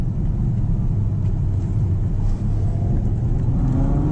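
A Ferrari FF's V12 engine pulls hard under acceleration on the road, a loud, continuous low rumble that rises slowly in pitch and stays heavy and steady throughout, heard from inside the car.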